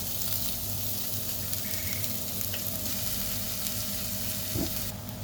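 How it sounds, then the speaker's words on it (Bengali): Onions sizzling and frying in hot oil in a pan, with a steady dense crackle and hiss throughout, plus a brief stir near the end, during home cooking of a stuffed pointed gourd dish. "এই তেলের ভিতরে দিয়ে দিচ্ছি পেঁয়াজ"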